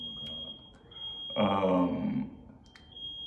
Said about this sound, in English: I thought that was a fire alarm.